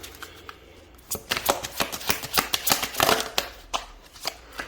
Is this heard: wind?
no